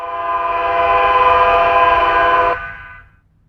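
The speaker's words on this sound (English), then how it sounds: "Train 116 approaches the East Main Street crossing at milepost 185" Norfolk Southern train 116 blows its horn near the East Main Street road crossing in Ohio, one long loud chord-like blast, held steady and then cut off, fading to quiet rumble.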